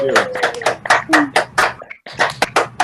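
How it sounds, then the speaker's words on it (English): Online attendees on an unmuted video call clap in sharp, uneven bursts, with voices and whoops mixed among the claps. "So how about we all give a round of applause to Coach Richards"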